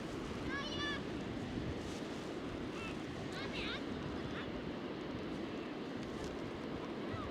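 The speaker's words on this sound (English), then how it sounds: "Just the sound of the sea" Steady broadband roar of sea surf washing in continuously on a beach, with wind across the microphone and a few faint bird calls overhead.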